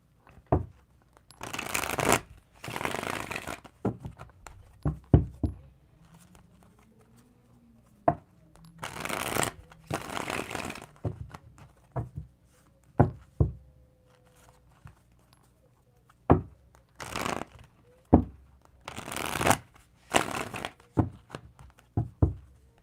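A tarot card deck is shuffled in repeated bursts of riffling and cascading cards, separated by lighter taps and clicks as the cards are squared, close and clear without speech.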